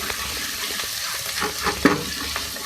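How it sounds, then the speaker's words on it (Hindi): A steady sizzle of ginger garlic paste frying in a hot pan, with occasional light stirring scrapes and a soft clink. "मैं इसमें ऐड करूँगी अदरक लहसुन का पेस्ट 1 खाने का चमचा। इसको फ्राई करेंगे अच्छी तरीके से।"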